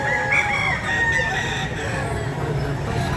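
Gamecock rooster of the Lemon sweater bloodline crowing loudly and close, a drawn-out call over a busy background of other fowl and low murmuring at a cockfighting sale.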